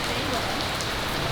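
Light rain begins to fall outdoors, a dense, steady hiss of fine drops on surfaces filling the short stretch without a break.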